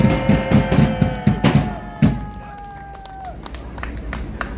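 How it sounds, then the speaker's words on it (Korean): A crowd at a political rally calling for an investigation into alleged election rigging breaks into scattered clapping and cheering. The noise is loud at first and thins out after about three seconds, with sustained whistle-like tones running over it. "큰 박수 한번 해주시기 바랍니다"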